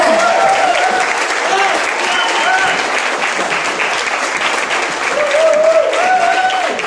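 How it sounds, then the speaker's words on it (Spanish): Applause from the audience at a panel discussion in Colima, a steady wash of clapping, with voices talking and calling out over it throughout. "Un aplauso para todos."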